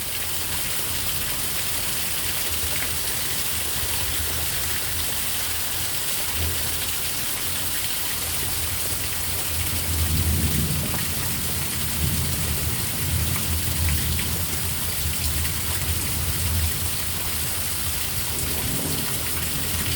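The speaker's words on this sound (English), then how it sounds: "Sounds like it's like a raging water." Heavy storm rain pours steadily on Merritt Island, a dense continuous hiss that holds throughout, with low rumbles swelling in the middle like distant thunder.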